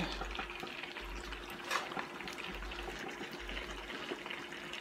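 Water poured onto seasoned curry chicken and pork in a home kitchen, a quiet steady trickling and splashing pour heard close with no talk.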